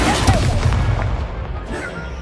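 An Incendio fire spell is cast in a Harry Potter video game, giving a loud burst of booming, crackling magic within dense, continuous battle noise that fades slightly toward the end.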